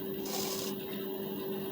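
A sewing machine stitching a blouse runs in a steady whirring hum with a constant tone, close and continuous, with a brief higher rattling burst early on.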